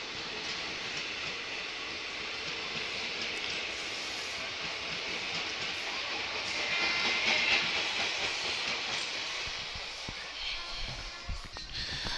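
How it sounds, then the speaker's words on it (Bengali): A passenger train pulling out of a station on an Indian rail journey, a steady broad rumble and hiss of the rail cars that rises in the middle and eases toward the end, with people talking faintly nearby. "ট্রেনটি ছেড়ে চলে যাচ্ছে, লোগো পাইলট সিগন্যাল দিচ্ছে।"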